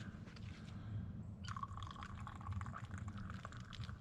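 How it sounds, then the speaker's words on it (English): Coffee poured from a small camp pot into a cup and spilled over a Yamaha ATV outdoors while camping, a soft trickling splash that starts midway and runs steadily over low background rumble. "And pour myself a cup. And dump it all over the Yamaha."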